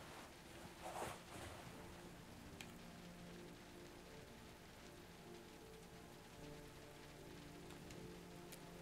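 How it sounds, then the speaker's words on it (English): Rain from the video game Road 96 patters steadily on surfaces, a soft, continuous wash of drops with a few sharper splashes, faint and even throughout with no voices. "let's wait out the rain in the booth"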